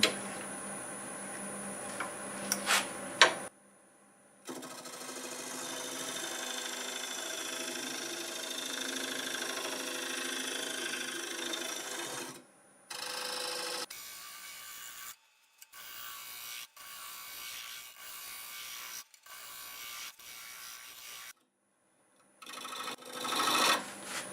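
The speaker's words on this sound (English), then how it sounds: "Go ahead and clean it up with a negative rake scraper, and actually I think it'll cut pretty good." Negative rake scraper cutting hard black locust wood on a lathe, heard as a steady close rasping scrape over the spinning workpiece, broken by several abrupt stops and restarts, with no talk.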